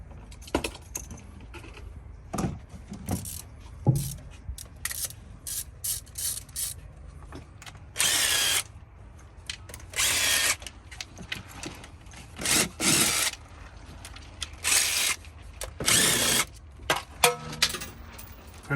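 A power tool works the camshaft solenoid bolt on a 2012 Hyundai Veloster engine, with several bursts of whirring and rattling between clinks and knocks of metal parts, close up and without speech.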